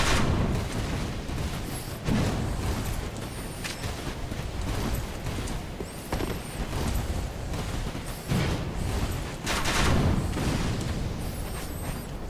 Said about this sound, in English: got us with some explosive bolts there.